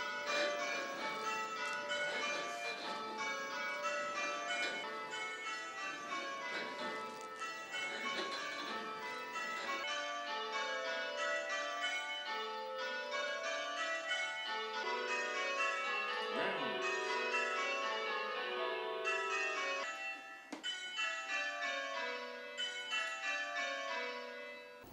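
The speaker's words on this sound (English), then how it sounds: "the computer, the program, will simply make the sounds of all the other bells" Several church tower bells, generated by a change-ringing simulator, ring in steady succession, their overlapping metallic tones cascading in a continuous, evenly paced pattern without any voices.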